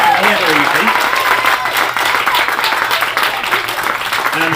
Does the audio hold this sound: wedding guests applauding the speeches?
yes